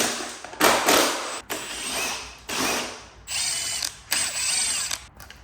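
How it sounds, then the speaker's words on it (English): A power drill bores holes in a plastic motorcycle tail piece from a 2022 GasGas EC350F, sounding as four loud, close bursts of whirring with short quiet gaps between them and no talk. "I'm going to need to drill a hole either side to try and mount some indicators"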